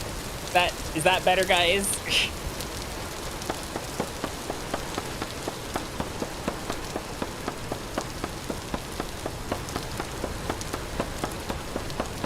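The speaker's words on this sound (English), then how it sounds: "rain's nice, but that is actually very loud" Rain in the game Vintage Story patters steadily on surfaces, a dense hiss with regular small drop taps continuing throughout, while a person speaks briefly near the start.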